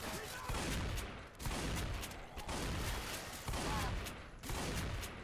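In the zombie shooter Left 4 Dead, the player's gun fires in rapid, sustained bursts. The dense gunfire repeats in waves with only brief dips between volleys.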